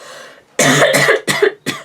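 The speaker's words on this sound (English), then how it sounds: "I think my throat's starting to cough all over the place" A person coughs several times in quick succession, close and loud, each harsh burst separated by short gaps.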